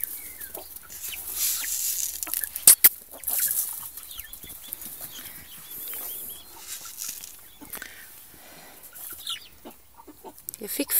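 Chickens in a home garden give soft, irregular clucks and short calls close by, with a few sharper squawks. The calls come in scattered bursts over a quiet outdoor background.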